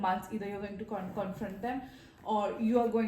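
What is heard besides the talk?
No everyday noises stand out.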